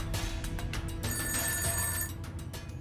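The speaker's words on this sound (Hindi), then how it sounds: "बज रहा है।" A telephone rings on an outgoing call, a repeating electronic tone in steady bursts heard fairly close and alone, with no talking.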